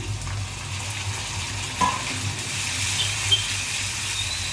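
Tomatoes tipped into a pan of frying beef liver masala set off a steady, close sizzle, with a brief clatter near the middle and soft bubbling underneath.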